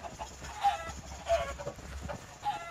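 Several Minecraft chickens cluck in short bursts at a moderate distance, over a faint electronic background hum.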